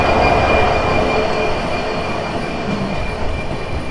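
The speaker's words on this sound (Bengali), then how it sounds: "সিল্ক সিটি চলে যাচ্ছে" The Silk City Express passenger train rolls past at a station crossing in Bangladesh, giving a continuous loud rumble with rail noise and a faint wheel squeal throughout.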